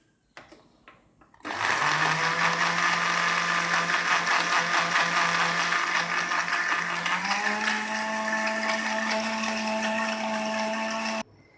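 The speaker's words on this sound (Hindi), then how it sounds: "ब्लेंडर को अब हम ऑन करते हैं।" An electric blender whirs steadily and loudly, churning milk, walnuts and dates for a walnut date shake, starting abruptly after a few faint clicks and shifting slightly higher in pitch partway through before cutting off.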